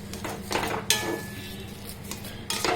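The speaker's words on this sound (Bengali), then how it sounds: "আরও কিছুক্ষণ আমি এটা ভালো করে নেড়ে নেব" Semolina dough being stirred and pressed in a wok: a metal spoon scrapes and knocks against the pan, with a sharp clank near the start and more scraping toward the end, and no voices.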